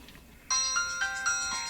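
A mobile phone ringtone for an incoming call starts abruptly and plays a bright, repeating electronic melody loud and alone, with a few short pulsed phrases.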